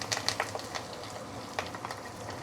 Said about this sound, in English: Once the oil is heated up, we can put in all the fresh herbs.